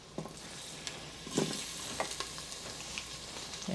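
Ginger and garlic hitting a tablespoon of hot vegetable oil in a pan for a Chinese soup noodle dish, giving a steady soft sizzle with a few brief crackling pops and stirring scrapes, no voices.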